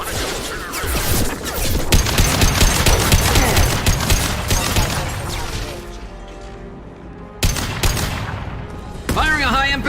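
Gunfire in Mass Effect Legendary, dense rapid shots and impacts over several seconds, then a quieter stretch with a few sharp bursts and a brief voice near the end.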